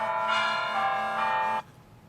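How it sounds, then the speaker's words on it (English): Bell tower ringtone on an iPhone 5 with iOS 6, a sustained ringing bell peal with rich overtones, steady and close for about a second and a half before stopping abruptly, with no talking. "bell tower"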